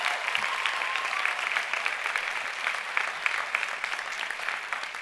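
Steady audience applause at a 2024 commencement ceremony, dense and even throughout, heard from a moderate distance with no voices over it.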